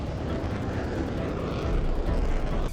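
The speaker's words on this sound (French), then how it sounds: "Parfois, les pilotes n'accrochent pas le brin et doivent remettre les gaz pour repartir." A jet aircraft doing a touch and go on an aircraft carrier deck produces a loud, steady roar that fills the whole clip and swells slightly toward the end.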